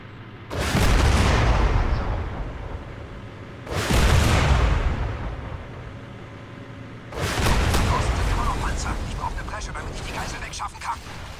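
Three heavy weapon blasts fired at a tank in Crysis, each a loud, booming shot followed by a long rumbling decay, spaced a few seconds apart, the last one trailing into scattered debris and battle noise.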